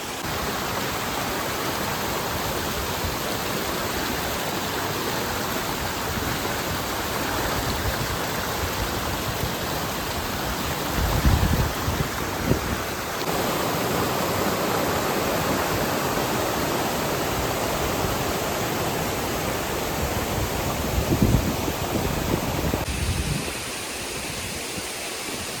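Small village waterfall in the Konkan countryside, a steady, loud broadband rush of falling water continuing throughout without pause, with a couple of brief heavier splashes and no voices.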